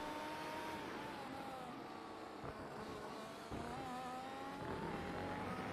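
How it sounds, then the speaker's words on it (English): A V6 turbo hybrid Formula 1 car in a racing video game at the Hungarian GP, its engine droning steadily with shifting pitch and upshifts, quite faint throughout, no talking. "the sound of this car still sounds pretty good."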